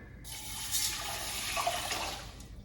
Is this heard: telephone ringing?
no